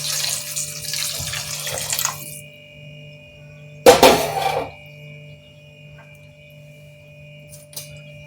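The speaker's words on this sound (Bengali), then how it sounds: "আমি একটু জল গরম করেই রেখেছি, ওই জলটা এর মধ্যে একটু দিয়ে দেব।" Hot water is poured into a pan of frying potatoes and ridge gourd, a brief loud splash and sizzling burst after softer kitchen hiss, then quiet.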